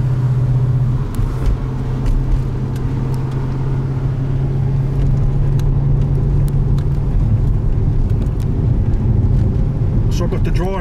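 Inside a Mercedes-Benz car on winding roads, a steady low engine and road rumble runs continuously beneath people talking.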